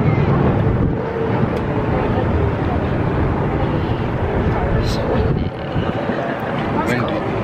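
Heavy wind buffeting the microphone in a continuous low roar on a pedestrian bridge in Providence at night, with people talking faintly beneath it.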